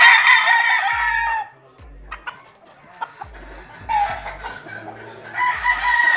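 A Sweater gamefowl rooster at a gamefarm crows loudly and close, two long strained calls separated by a quiet stretch with scattered clucks and faint background noises.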